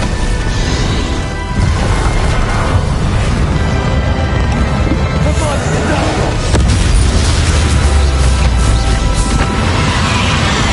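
Explosive spells Bombarda and Confringo cast in Hogwarts Legacy, loud booming blasts and crashes one after another over a dense, continuous battle din.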